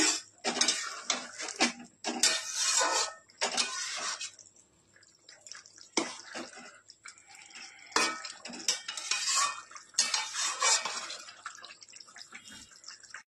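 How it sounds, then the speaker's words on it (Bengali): Snakehead fish going into a pan for Bengali shol mach jhol, with bursts of metal utensil clatter, stirring scrapes and wet sizzling in uneven clusters separated by short quiet gaps. "এই যে মাছটা দিয়ে দেবো।"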